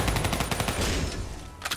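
Rapid automatic gunfire from the video game Call of Duty: Black Ops 3 rattles in close, loud bursts that trail off briefly before a final short burst.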